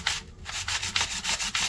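Sandpaper rubbing on bonsai wood, about ten quick back-and-forth strokes in a steady rhythm, close and fairly loud, with nothing else audible.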